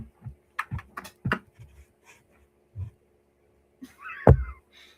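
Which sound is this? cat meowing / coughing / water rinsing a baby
cat meowing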